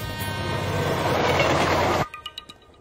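A train rolls along the rails with a loud, close, steady rumbling roar for about two seconds, then cuts to a few fainter rhythmic clacks of wheels over rail joints.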